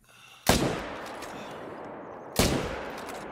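Two sharp rifle gunshots in the hunting video game theHunter: Call of the Wild, spaced about two seconds apart, each a loud crack followed by a long rolling echo that slowly fades.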